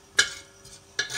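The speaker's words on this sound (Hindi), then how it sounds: "यहाँ आधा कप ऑयल गरम हो रहा है, इसके अंदर हम ये गरम मसाला डाल देंगे। इस गरम मसालों को इसके अंदर थोड़ा सा भूनेंगे।" Garam masala stirred into half a cup of hot oil for a chicken kofta aloo curry, heard as two brief bursts of sizzling stir noise close up, separated by a quieter gap.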